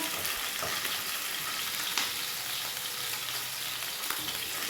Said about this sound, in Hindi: तो इसको मैं थोड़ा सा करूँगी फ्राई, हल्का सा।